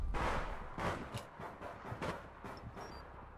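Grenade blast in the video game APB: Reloaded, a rumbling boom at the start followed by several further thuds and cracks of combat, fairly distant and moderately loud.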